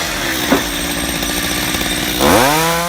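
A chainsaw runs steadily through firewood logs, a continuous rough buzzing with a brief burst near the start and a rising pitch sweep near the end as the engine revs up.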